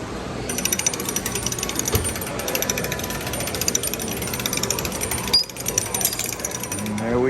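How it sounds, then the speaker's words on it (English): A coin-operated penny-crushing machine presses a penny, giving a steady loud grinding ratchet of gears and pawls that runs for several seconds with a brief pause near the end. "little coin machine over here"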